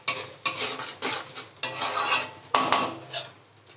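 Egg curry masala being stirred in a pan: a spoon scrapes and clinks against the metal in repeated strokes, with a soft sizzle underneath, close and fairly loud with no voices.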